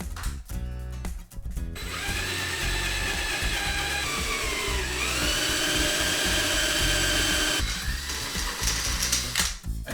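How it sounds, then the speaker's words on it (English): A power drill with a 10mm bit bores holes through a wooden garden roller handle. The motor whines loudly and steadily and nearly fills the span, with brief changes in pitch near the start as the bit catches the wood. "what I'm going to do now is to drill the holes"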